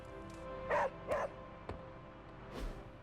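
A dog in the video game Marvel's Midnight Suns gives three or four short, sharp barks and yips spaced about half a second apart, fairly faint over a low background hum.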